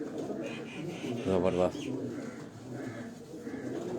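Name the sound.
pigeons cooing on rooftop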